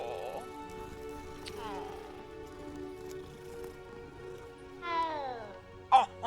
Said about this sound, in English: pet the kitty!